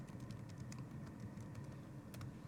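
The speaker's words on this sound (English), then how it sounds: "typing it in here" Soft, rapid clicking of keys on a computer keyboard, faint and close, as short entries are typed in a steady patter against a low background hum, with no one speaking.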